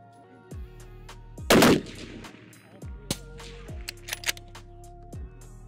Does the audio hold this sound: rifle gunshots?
yes